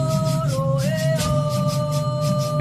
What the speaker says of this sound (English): NASA's Solar Dynamics Observatory listens to the sun.